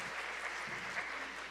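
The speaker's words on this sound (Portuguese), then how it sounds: "Pode aplaudir ao Senhor pela vida dela." At a church women's gathering, a congregation claps, a short burst of steady, fairly faint applause.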